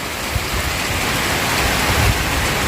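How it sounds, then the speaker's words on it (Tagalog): Dense, heavy rain pours down in a continuous loud hiss, close and steady throughout with no voices. "Umanat po yung malakas na ulan."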